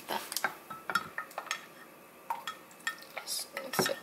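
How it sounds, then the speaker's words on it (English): Cod roe spaghetti being gently stirred and mixed in a pan or bowl, giving soft scattered clinks and scrapes of utensils at an irregular, unhurried pace, fairly quiet and close. "Just mix it well, kind of gently so I don't like smoosh them too much or break them."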